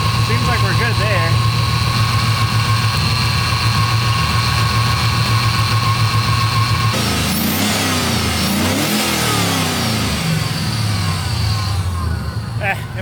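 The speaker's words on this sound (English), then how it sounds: "LS is generally run pretty rough until they've got a little heat in them." An LS V8 engine swapped into a Miata runs rough while still cold, a loud uneven idle with blips of revving that turn more ragged partway through, while a person talks over it.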